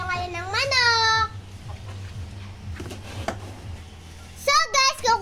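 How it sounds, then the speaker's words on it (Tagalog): Pet chickens clucking at feeding time in a backyard, faint clucks scattered under a child's loud, excited talk at the start and end. "magpapakain po tayo ngayon ng manok"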